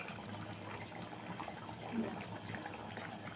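Chicken salna gravy simmering in a pot, a soft continuous bubbling and watery burble with faint pops, steady and close, no voices over it.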